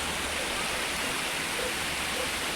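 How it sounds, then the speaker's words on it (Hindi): Amjhara waterfall in the Amjhara valley, a steady broadband rush of falling water that fills the whole clip evenly and continuously, with no voices. "वो सामने हमारा वाटरफॉल है, झरना, हमारा अमजरा वाटरफॉल"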